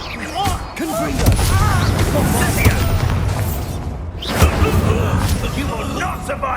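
A Confringo fire spell blasts in Hogwarts Legacy, a booming burst that lands amid combat with whooshing spell effects and shouted voices, followed by a second heavy impact midway through.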